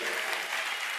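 A church congregation at a worship service claps together in a brief, dense burst of applause, heard on its own without talk.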